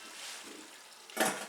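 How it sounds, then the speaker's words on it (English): A metal lid clatters onto a skillet of salmon and wilting baby spinach, one short clanking impact near the end after a quiet stretch of faint kitchen background. "So I'm covering the pan"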